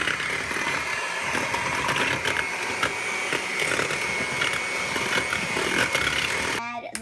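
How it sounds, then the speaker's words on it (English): An electric mixer beats red velvet cake batter in a bowl with a steady, close motor whir that runs the whole time, and a voice talks over it. "you're going to get your mixer here, and then turn it on again"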